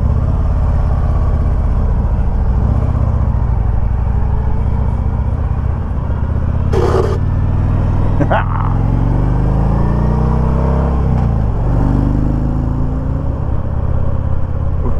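A Harley-Davidson motorcycle on the road gives a loud, continuous low engine rumble with shifting tones as it rides, plus a few short passing noises over the steady drone.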